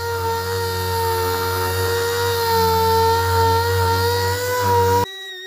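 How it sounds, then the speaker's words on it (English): Power sander working a car body panel around a repaired small dent before priming, giving a loud, steady whirring drone with a clear pitched hum that cuts off abruptly near the end. "We'll sand around the perimeter and then we'll mask this off for some primer."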